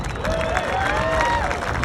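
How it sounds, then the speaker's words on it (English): Outdoor crowd applauding Team Sweden's elite snowmobile athletes at the Hay Days 2022 event, a continuous wash of clapping and cheering that holds steady for about two seconds. "give us a round of applause for these guys as well"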